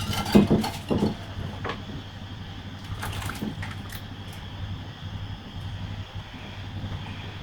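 Chicken and garlic stirred in a pan for crispy fried chicken, with a few sharp clinks and scrapes of utensil against pan early on, then a quieter steady sizzle.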